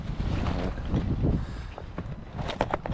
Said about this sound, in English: Wind's going pretty good too.